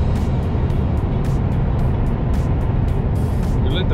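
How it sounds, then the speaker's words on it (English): Trucks pass on a highway in a dense, continuous roar of heavy engines and tyre rumble, loud and close, with no talking. "making sure that when the trucks come past, you allow them time to come into your lane"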